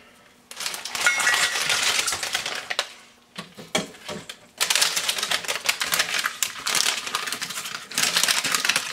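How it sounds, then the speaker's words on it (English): Dried, thinly dehydrated soup leather being broken up by hand in a bowl, giving dense, loud crackling and brittle snapping in bursts, with a brief pause near the middle before more continuous crunching. "I just want to break that up."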